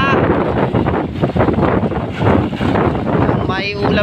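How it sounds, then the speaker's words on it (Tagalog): Strong wind buffets an outdoor microphone at a tilapia fishing spot on Laguna de Bay, a constant loud rushing roar that stays steady throughout, with faint water sounds mixed in and people talking underneath. "Lakas na hangin"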